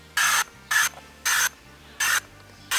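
Five short bursts of eco-friendly bug spray at a steady rhythm, close and loud, each hiss lasting about a quarter second with silence between.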